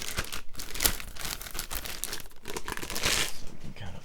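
A large round sticker peels off the packaging of an OWC Mercury Elite Pro Dual enclosure, giving close crinkling and tearing with a sharp rip near the end, steady handling noise throughout.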